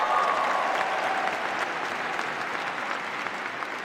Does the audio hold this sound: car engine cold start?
no